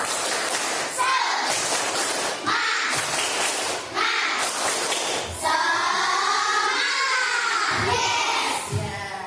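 An elementary class performs a 'tepuk semangat' clapping chant: close, loud rhythmic claps in bursts mixed with children's chanting voices, rising into a fuller group shout in the second half.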